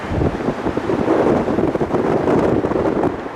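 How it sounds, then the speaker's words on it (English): Wind gusts at an airport in a loud, steady roar that buffets the microphone continuously, with no speech. "That's the wind."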